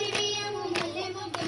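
Women sing a folk song at a Batukamma festival, with sharp, evenly spaced hand claps cutting through the sustained melody, three distinct claps about half a second apart.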